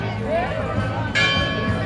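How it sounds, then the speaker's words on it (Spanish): Church bells ring in the background beneath a murmur of crowd chatter and voices at a romería offering to San Mateo, with a brighter bell strike cutting through midway. "Y ese sonido de campanas también de fondo"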